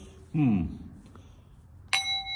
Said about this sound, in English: I just rang the breakfast bell